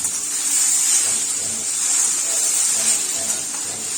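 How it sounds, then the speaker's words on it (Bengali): Thick-cut potatoes frying in a pan give a steady, loud hiss and sizzle that runs without a break from start to finish, with no talk. "একটা আলু ভাজা হচ্ছে।"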